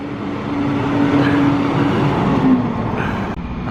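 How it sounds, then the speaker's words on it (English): A tow truck rolls up on a roadside for a broken-down rental car, its engine a loud steady drone with a low hum running throughout. "Oh, here comes the tow truck."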